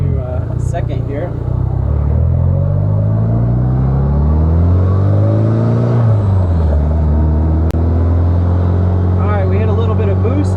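Triumph GT6 engine pulling hard in second gear from inside the car on a first drive, a loud droning rumble that rises in pitch, eases, then climbs again, steady and close throughout.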